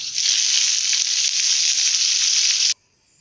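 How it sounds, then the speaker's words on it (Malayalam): Mustard seeds, fenugreek, curry leaves and dried chillies sizzle loudly in hot oil for a Kerala apple pulissery tempering, a close, steady hissing burst that cuts off abruptly to near silence. "കടുക് ചെറുതായിട്ട് പൊട്ടാൻ തുടങ്ങിയിട്ടുണ്ട്."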